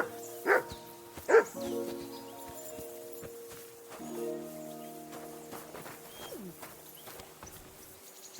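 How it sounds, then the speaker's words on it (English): Dog barking in the medieval game Kingdom Come: Deliverance II, two sharp barks close by early on, then quieter background tones and a faint whine near the end. "Whistle at that mutt of yours to stop barking."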